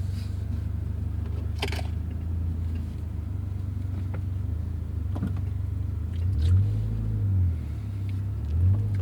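A Toyota GR86 10th Anniversary Special Edition with an automatic in sport mode drives canyon roads, its engine a steady low cabin rumble with a couple of rising swells as revs climb, plus faint road noise.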